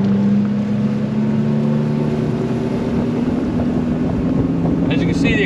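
A Starcraft CX 23 DL motorboat accelerating on open water, its engine a steady, loud drone with rising low tones and wind rush throughout, and a brief higher whine near the end.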